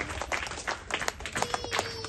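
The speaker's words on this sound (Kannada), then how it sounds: "ಜೋರಾದ ಚಪ್ಪಾಳೆಯೊಂದಿಗೆ ಮತ್ತೊಮ್ಮೆ ಅವರಿಗೆ ಧನ್ಯವಾದಗಳನ್ನು ಅರ್ಪಿಸ್ತಾ ಇದ್ದಾರೆ" Loud applause for donors at a government primary school event, a brief spell of scattered, uneven hand clapping from a small crowd, moderately close.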